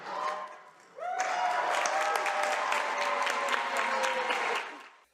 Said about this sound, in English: Well, a lot of cheering there